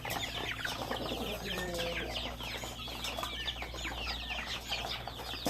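Rhode Island Red chicken clucking in a backyard coop, several soft clucks and chirps from the hens over a steady low farmyard hum, with other birds faintly around.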